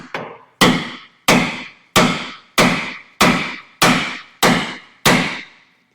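A 2-pound sledgehammer beats on a stuck Ram lower control arm or strut bolt and nut, nine loud, evenly spaced metallic strikes with a sharp ring that decays between blows.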